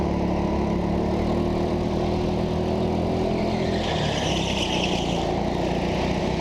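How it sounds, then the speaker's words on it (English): A racing kart engine runs at the TeamSport Leicester indoor track, a steady buzzing drone that holds throughout with a faint higher whine rising near the end, and no talk over it. "I'll be quiet for a second just so you can hear the engine. It sounds like something's ticking."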